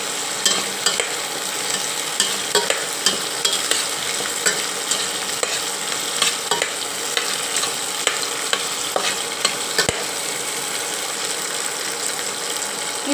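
Green chilies, curry leaves and onion frying in a pan with fennel seeds, with a continuous loud sizzle and regular scraping stir strokes close up and no speech.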